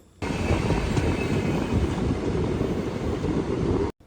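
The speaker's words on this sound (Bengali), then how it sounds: "আমাদের ট্রেন গিয়ে পৌঁছালো চণ্ডীগড় জংশন" A steady, loud rumbling roar of the Golden Temple Mail train running, continuous broadband noise with no distinct pauses, cutting off abruptly at the end.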